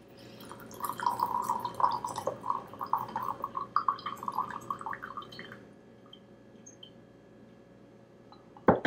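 Brewed white tea is poured out of a teapot in a thin, trickling stream that splashes and gurgles for about five seconds, then tapers off into quiet drips before a final clink.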